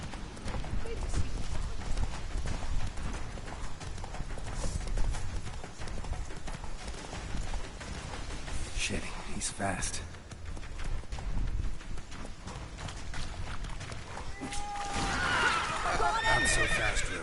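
A horse gallops with fast, steady hoofbeats and lets out a whinny in The Witcher 3, with game voices and a player talking over the clatter.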